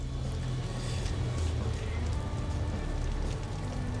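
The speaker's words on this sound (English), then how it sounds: "speaking of shower, it is raining" Steady rain pours in the video game Dreamfall, a dense continuous patter with a low rumbling bed throughout, fairly loud and unbroken for the whole stretch.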